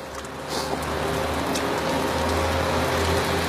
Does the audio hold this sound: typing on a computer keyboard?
no